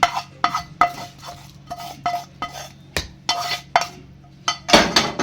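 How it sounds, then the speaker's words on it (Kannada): A spoon stirs tempering into pongal in a metal pot, giving close, rhythmic clinks and scrapes about twice a second, ending in a louder clatter. "ಹಾಕಿ ಚಲೋ ಹೊತ್ನಾಗ ತಿರುಗಿಸನ್ರಿ"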